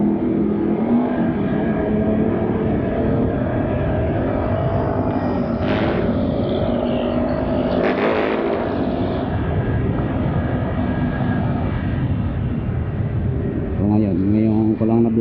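Continuous road traffic roars around a moving scooter, with engines passing close by and swelling, and a horn-like tone near the end.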